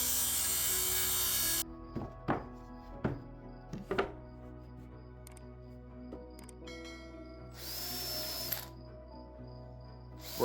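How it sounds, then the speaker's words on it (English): A power drill pre-drilling holes in small pieces of wood whirs in several short bursts, with a louder steady motor run at the start and another near the end, clatter of wood between. "you really want to pre-drill your holes"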